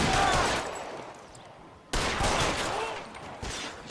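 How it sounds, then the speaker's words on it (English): Rapid bursts of machine gun fire in the video game L.A. Noire, loud and close, two sustained volleys split by a brief break. "He has a machine gun."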